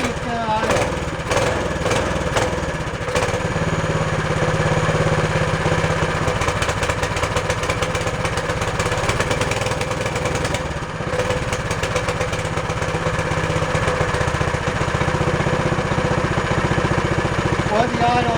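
A cheap mini bike engine runs steadily for the whole stretch with a poorly set, uneven idle, a continuous loud buzzing drone close by, and talk along with it.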